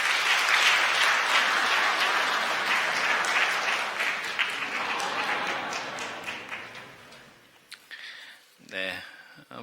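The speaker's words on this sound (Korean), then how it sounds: "박수 한번 더 보내주시죠." A church congregation at a Sunday worship service claps in loud, sustained applause that gradually thins and fades, followed by a voice speaking.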